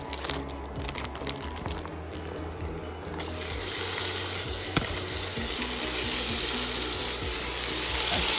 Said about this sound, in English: That's 1 pound of ground turkey. It's cooking in that butter.